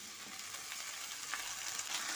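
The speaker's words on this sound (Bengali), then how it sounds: "এবার এ পর্যায়ে কেটে ধুয়ে রাখা ফুলকপিগুলো এর মধ্যে দিয়ে দিচ্ছি" Cauliflower pieces hit a pan of frying potatoes and onions, giving a dense, bright sizzle that holds steady and close for a couple of seconds with no voices.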